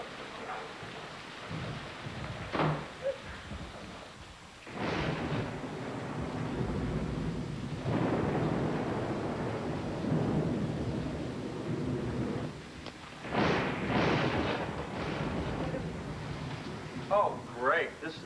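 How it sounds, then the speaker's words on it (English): A thunderstorm with rain rumbles through, heavy broadband downpour with swelling bursts of thunder across the span, while voices speak intermittently over the storm. "Oh, look at the way it's raining."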